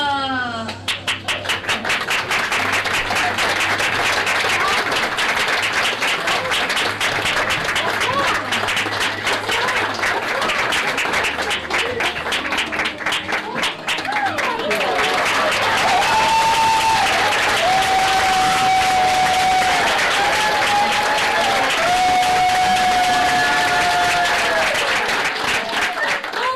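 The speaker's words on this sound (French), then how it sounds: "Applaudissez-la chaleureusement," A studio audience gives the host of a Québec show long, loud, sustained applause, with a voice and music rising over the clapping in the later part.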